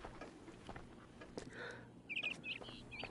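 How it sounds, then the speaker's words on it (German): Faint, quick chirps from a bird in the VR video game Transference rise near the end over a quiet room tone with soft clicks. "Irgendwo ist es am Zwitschern"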